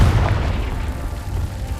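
A Confringo spell explodes in the Hogwarts Legacy video game, a deep, booming blast at the start that rumbles and fades over a couple of seconds.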